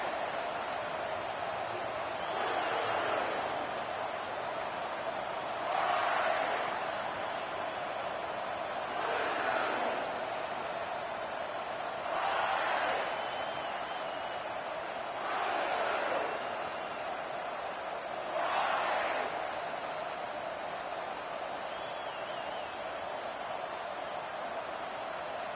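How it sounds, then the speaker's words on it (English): A college football stadium crowd roars in broad, distant swells that rise and fall in several waves over a constant hum of the packed stands, with no talk over it. "This crowd trying to show them what it's going to be like all day in this house."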